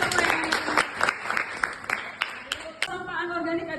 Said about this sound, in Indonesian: Oke, tepuk tangan dulu untuk Samuel.